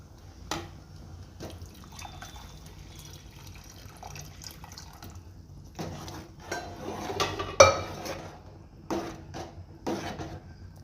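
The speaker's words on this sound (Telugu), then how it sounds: "దీంట్లోకి మనము కొన్ని వాటర్ని అయితే యాడ్ చేసుకుందాం" Water is added to a pot of thick cooked Andhra-style coriander dal, with short pouring splashes mixed with clinks of utensils against the pot, fairly quiet and with no talk.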